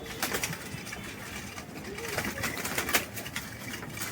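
Pigeons cooing in a loft, soft low repeated coos mixed with occasional wing flutters and rustling, fairly close, with faint background noise and a few voices murmuring.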